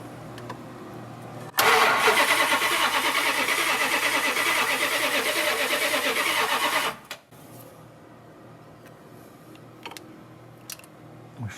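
A car engine run with its radiator disconnected cranks and catches abruptly, roaring loudly and steadily for about five seconds before cutting off, leaving faint clicks and a quiet background hum.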